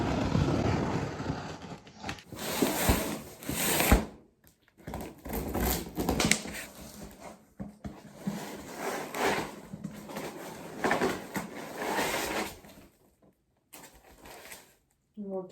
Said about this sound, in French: on va le déballer ensemble